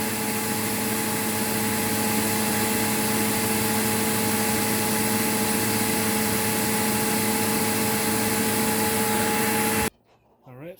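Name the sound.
Eureka Whirlwind 4380 vacuum cleaner running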